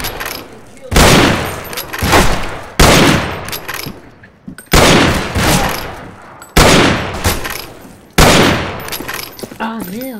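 Scoped rifle fire in a Wild West shooter game, five loud sharp shots spaced about two seconds apart, each with a booming crack and a decaying tail, plus a brief whistling tone at the very end.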